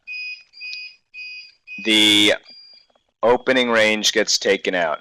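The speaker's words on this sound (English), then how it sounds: "Now you may hear some beeps in the background," Four short electronic beeps from a battery backup signal a power loss, evenly spaced and fairly loud, followed by a longer tone under someone talking.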